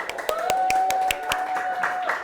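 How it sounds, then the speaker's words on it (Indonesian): Students in a classroom give a short round of applause for a classmate: separate, uneven hand claps from a small group, close by, with a thin steady tone running through. "kita beri tepuk tangan untuk Fadil"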